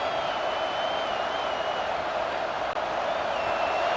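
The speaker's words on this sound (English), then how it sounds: "This crowd, full throat, splitting the eardrums" Stadium crowd in the EA Sports College Football 26 video game roaring steadily at full throat, a dense, continuous wash of noise with faint whistle-like tones above it, loud and unbroken throughout.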